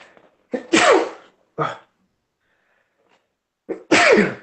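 Two loud, close sneezes, each preceded by a sharp intake of breath, separated by a few seconds of near silence.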